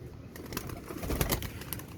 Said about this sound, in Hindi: सारे ये सियालकोटी कबूतर हैं, पूरी छत आई है।